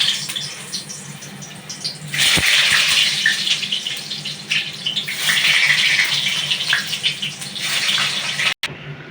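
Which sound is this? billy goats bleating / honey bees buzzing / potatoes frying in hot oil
potatoes frying in hot oil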